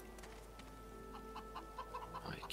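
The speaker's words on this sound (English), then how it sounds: "We encountered a brood of panicking hens who have lost their eggs." A brood of panicking hens in the video game Divinity Original Sin 2, clucking in quick, agitated bursts that build toward the end over a low, steady game ambience.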